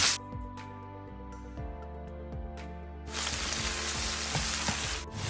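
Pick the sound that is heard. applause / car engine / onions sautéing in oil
onions sautéing in oil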